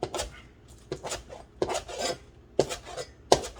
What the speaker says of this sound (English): We're just gonna give them a like angled, diagonal cut.